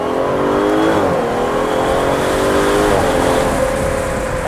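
Aston Martin DBS Superleggera engine revving, a loud, close, sustained roar that rises and dips in pitch twice as the throttle swells and eases, with no voices.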